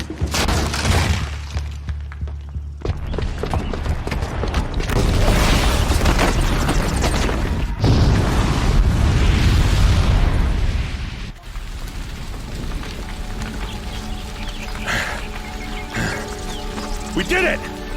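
A bomb rigged with a booby trap blows up inside a building in Horizon Zero Dawn, bringing a loud, sustained roar with crashing, shattering debris that rumbles on for several seconds before settling into lower, steadier noise.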